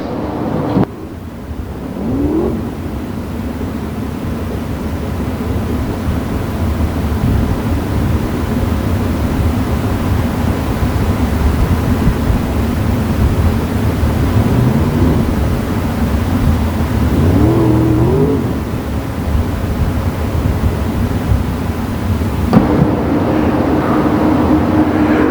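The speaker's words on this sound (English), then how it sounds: "Last of the cars fire off" Open wheel race car engines fire up and idle together at Plymouth Motor Speedway, a loud, continuous low rumble with rising revs and distant engine roar throughout.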